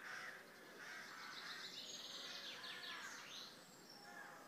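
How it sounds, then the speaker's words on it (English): Crows cawing around an old town hall in a small Scottish town, a scatter of harsh calls over steady outdoor background noise, with a faint voice briefly audible. "the crows are crowing"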